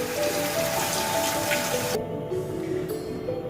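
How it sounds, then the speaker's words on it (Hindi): Water being poured into a cooking pot of lamb trotters for paya, a steady splashing rush that drops off partway through, with no talk. "पाए में मैंने पानी डाल दिया है।"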